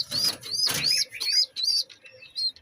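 A quick flutter of a Napta pigeon chick's small wings among a run of high, repeated chirps, close by and with short pauses between calls.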